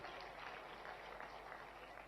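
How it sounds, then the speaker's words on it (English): Audience applause at an early childhood development policy launch, a steady dense patter of clapping held at an even level throughout, fairly distant and diffuse. "Let's clap for Lydian and the children once again"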